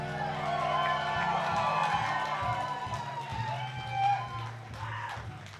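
A blues and jazz concert audience cheers and applauds for the band, a steady roar of crowd noise with whoops over continuing music, fairly distant and moderately loud.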